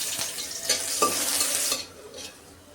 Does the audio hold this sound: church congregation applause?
no